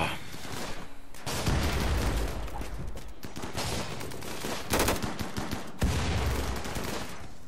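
Rapid bursts of gunfire in Rimworld A18, loud and dense, with overlapping volleys and sharp booming shots throughout, like a fusillade of rifles and machine guns.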